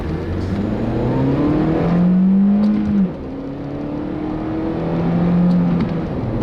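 A 2006 Honda Civic Coupe EX with a manual gearbox revs up through the gears, its exhaust note rising in pitch, dropping at a shift, then climbing again, loud and close with no talk.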